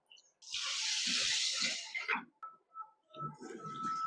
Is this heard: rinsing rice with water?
yes